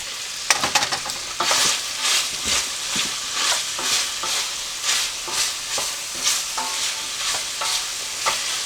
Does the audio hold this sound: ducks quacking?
no